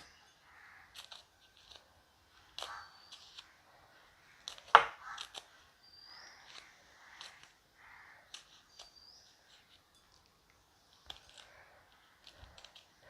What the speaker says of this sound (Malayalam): ഇനി നമുക്ക് ഒരു മൂന്ന് പച്ചമുളകുണ്ടേ അതൊന്ന് അരിഞ്ഞു കൊടുക്കാം